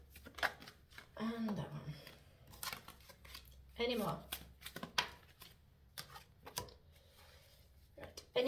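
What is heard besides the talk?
shuffling cards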